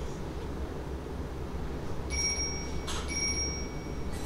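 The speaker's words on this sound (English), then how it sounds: "That damn chime" A phone app notification chime sounds indoors, a bright electronic tone heard twice in quick succession over a low steady background hum, with no speech.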